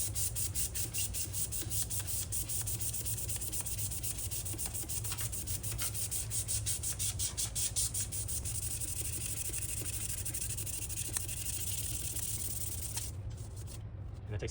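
Aluminum forks rubbed by hand with 600-grit sandpaper, a steady, close, raspy scrubbing with quick back-and-forth strokes that runs nonstop for the whole stretch, with no one talking.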